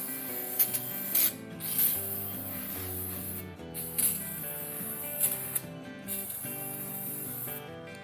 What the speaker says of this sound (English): So we'll pop some WD-40 all around the edge of that cylinder wall